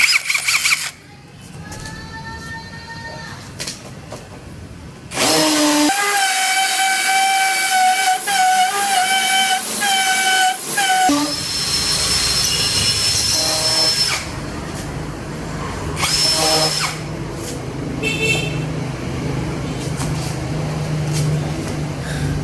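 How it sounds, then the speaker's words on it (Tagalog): A cordless Keelat hammer drill bores into concrete with a large concrete drill bit, giving a loud, sustained whining grind with rattling hammer action, cutting in and out over several long stretches. "mag-drill gamit yung hammer tsaka malaking concrete drill bit."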